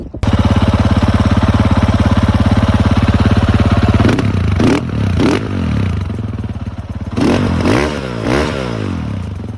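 Kove 450 Rally motorcycle with a de-catted HP Corse full exhaust, larger airbox and enduro ECU, idling loudly with a rapid steady thump, then revved in several sharp bursts that rise and fall.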